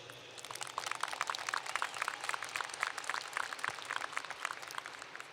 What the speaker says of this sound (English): Let's give a round of applause to all of our parents and guardians who are here to support us today.